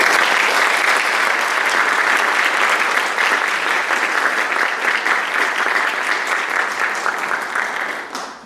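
A lecture audience applauds steadily to welcome speaker Daniel Drezner, dense clapping that holds strong for about eight seconds before tapering off at the end.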